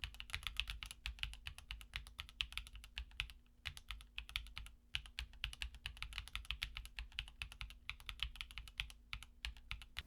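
Typing on a keyboard fitted with Gateron Mini i tactile switches in nylon housings, a steady run of quick, close, evenly paced keystrokes with a deep, muted clack and brief pauses, no voices.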